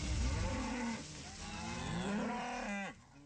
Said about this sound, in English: Moving the cattle from the hills to the corral is a sign of the changing season.